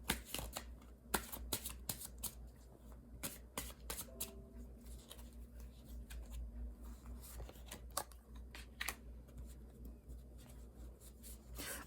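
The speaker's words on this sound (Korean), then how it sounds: "추가 카드 몇 장 뽑아보도록 할게요" Tarot cards shuffled by hand for a reading, a long run of crisp riffling and flicking bursts in an irregular rhythm, close and fairly loud over a low steady hum, with no talking.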